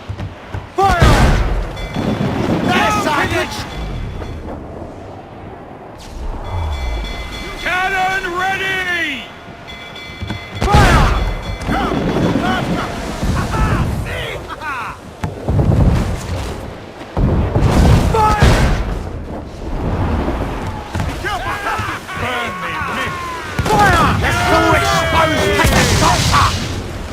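Heavy ship cannon fire in Assassin's Creed IV: Black Flag, loud booming blasts and thuds repeating across a naval battle, mixed with shouted crew voices and game music.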